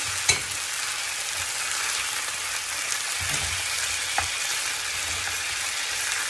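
Curried chicken pieces fry in a pan with a steady bright sizzle and crackle, a couple of sharper pops and clatters as the pieces are moved, close and unbroken, with no voices.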